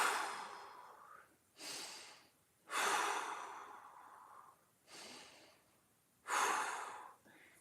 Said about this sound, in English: Let's go 3 big breaths.